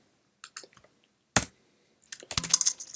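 Keys pressed on a Mac keyboard for a Command-Delete shortcut: a few light clicks, one sharper tap, then a quick cluster of clattering key presses, close and fairly quiet.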